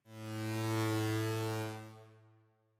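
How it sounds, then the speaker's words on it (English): A sustained, deep bass note with strong harmonics swells in and holds, then fades into a lingering reverberant tail from a reverb effect added in the FL Studio mixer. "you can hear there is some reverb"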